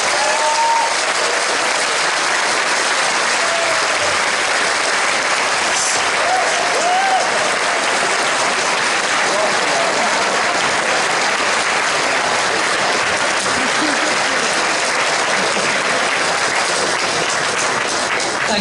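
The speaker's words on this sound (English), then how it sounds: "So if you can give her a round of applause," A large audience at the Confuzzled 2014 opening ceremony in a hotel hall bursts into sustained, dense applause for Liz Watson, steady and loud throughout with faint cheers mixed in.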